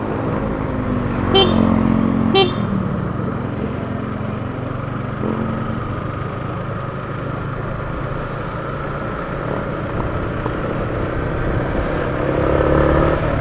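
A motorcycle engine runs with a steady, loud, close drone for several seconds, with a brief rise early on and no speech.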